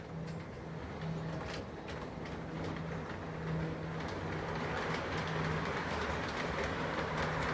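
A model railroad train runs along its track with a steady, continuous rumble and faint rhythmic clicking, moderately close and unbroken throughout, with no voices.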